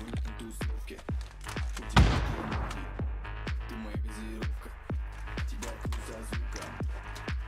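A grenade explodes in a PUBG firefight, one heavy boom near the middle, with a steady run of rapid gunshot thumps before and after it. Players talk over the fighting.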